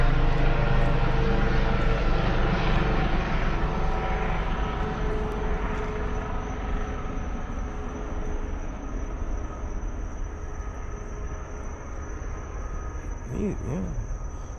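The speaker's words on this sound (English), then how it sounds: "Here comes the helicopter" A helicopter passes overhead in Ocala, a steady loud rotor and engine roar that fades slightly as it moves on, with brief talk near the end.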